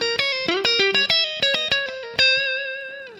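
Electric guitar with distortion and effects plays a blues-fusion lick built on the diminished half-whole scale, a quick run of picked notes that ends on a long sustained note, played alone and up close.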